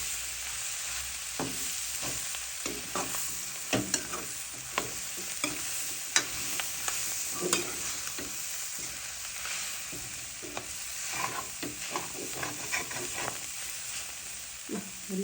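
Goat stomach bhutan fries in a pan, a continuous close sizzle punctuated by frequent scraping and clanking stirs of a utensil, some strokes sharper and louder than others, with no voices.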